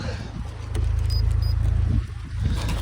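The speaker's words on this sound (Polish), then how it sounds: "silniczek pracuje bardzo ładnie, nie świecą się żadne błędy" A 2010 Opel Insignia 2.0 Turbo petrol engine with 220 hp, automatic, 4x4 and LPG, idles steadily with a low, even rumble, close and continuous, rising slightly in level midway.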